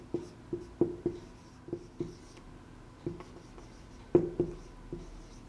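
Pen strokes on paper, a run of short scratchy marks in uneven bursts with brief pauses, close and fairly quiet, no talking.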